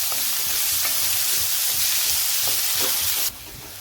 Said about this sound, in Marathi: हे कांदा परतण्यासाठी मीठ टाकलं।